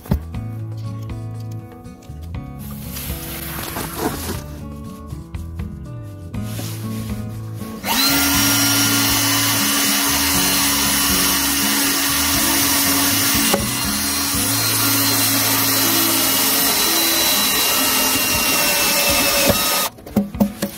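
Power drill work during a Vevor heater installation, a steady loud whirring drone that runs unbroken for about twelve seconds after shorter, intermittent bursts of tool noise and rubbing at the start.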